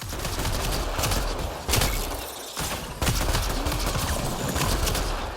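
Pistol gunfire in Mass Effect: Andromeda comes as dense volleys of loud shots, cut by one short pause, over a busy combat soundscape with no voices.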